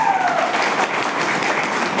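Audience at a business meeting applauding, a continuous dense patter of many hands clapping with a faint tone fading early on, moderately loud and steady, no speech.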